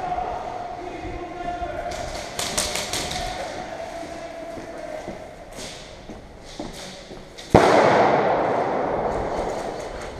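A grenade bursts during an airsoft game at an outdoor field in Gloucester, a single sharp loud crack followed by a broad rushing wash of noise, after scattered knocks, clatter and voices from players nearby.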